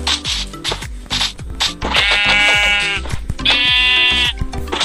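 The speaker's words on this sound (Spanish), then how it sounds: "aquí está la otra oveja" Sheep in Minecraft bleating in two drawn-out, loud bleats over a backdrop of rapid footsteps and blocky game sounds, with no voices.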